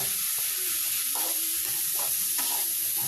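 Chopped vegetables and chillies stirred in a hot pan while making momos, with a steady sizzle and soft scraping strokes repeating every half second or so, close and even throughout, no voices.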